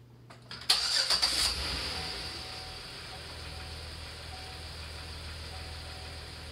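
A car engine cranks and catches, then settles into a steady idle, run with an exhaust hose attached during a DIY head gasket test; a brief loud start burst fades into a constant low hum.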